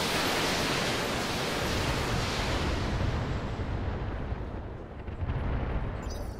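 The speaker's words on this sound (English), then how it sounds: "And best really is firing lots of missiles at things" Video game missiles fired at targets explode into a dense, continuous roar of rumbling blasts that runs unbroken and fairly loud, easing slightly near the end.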